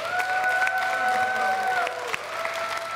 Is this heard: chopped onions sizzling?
no